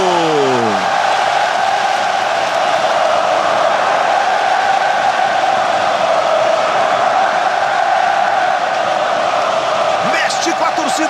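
Flamengo's red-and-black supporters fill the Maracanã with a loud, continuous roar of chanting and cheering during a Libertadores match, with a commentator talking over it.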